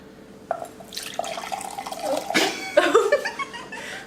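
Freshly brewed coffee poured from a cup into a bowl of red velvet cake batter, a close, trickling, splashing stream lasting a few seconds with a brief voice at the end.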